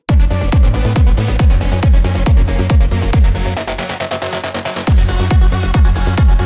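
Bright, sustained synth lead layered over a pounding four-on-the-floor kick, briefly breaking into a fast stuttering roll before the beat returns.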